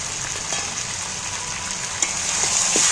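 Chicken cooks with tomatoes and green chillies in a pan, a continuous close frying hiss punctuated by scraping stirs and small clicks of the spoon, growing slightly louder toward the end with no voices.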